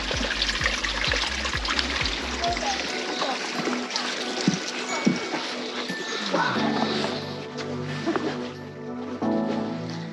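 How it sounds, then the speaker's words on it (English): A hot creek in Banff trickles and splashes steadily nearby, a continuous wash of running water with a low rumble that fades partway through. "This is a hot creek."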